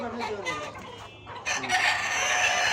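Chickens being injected in the breast with a booster dose of fowl cholera vaccine cluck and crow up close, a rooster's call rising clearly over steady farmyard background noise.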